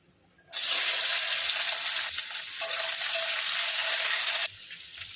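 Sliced onions and green chillies hit hot oil with panch phoron and dried chilli, bursting into a loud, close, continuous sizzle that runs for about four seconds before abruptly dropping to a quieter hiss.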